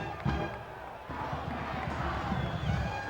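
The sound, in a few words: football stadium crowd in Bozeman, Montana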